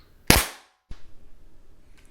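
An air gun fires a 3D Précision Innovation diabolo pellet, one sharp, loud crack followed by a short thump as the pellet hits the target.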